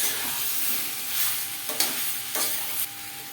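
Fried vegetables refried in a pan with spices and tomato, a loud steady sizzle with a few sharp stirring scrapes, close and without talk.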